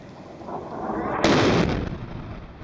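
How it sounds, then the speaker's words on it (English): A deep, booming missile explosion bursts out suddenly and then rumbles and fades, heard from a distance. "when you look at the overall explosion, once again, it starts from the top and comes out"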